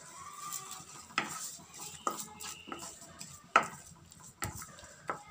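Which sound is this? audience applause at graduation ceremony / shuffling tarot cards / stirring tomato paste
stirring tomato paste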